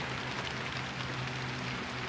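Steady rain falls outdoors over a garden seeding bed, a dense even hiss with a faint low hum beneath it.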